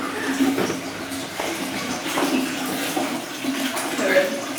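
A broken toilet in a small London bathroom flushes without stopping, giving a steady rushing, gurgling wash of water under a person's talking.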